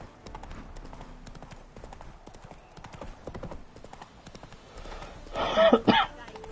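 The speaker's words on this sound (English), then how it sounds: "Trying to get the fucking horse to move" Horse hooves clip-clop steadily in the Witcher 3 video game, a quick regular rhythm of close hoof strikes, followed by a brief horse snort or whinny near the end.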